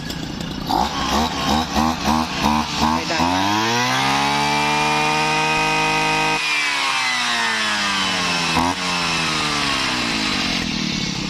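A small two-stroke Robin NB281 brush cutter engine idles with a steady buzzing drone, then revs up into a high whine and settles back, loud and close.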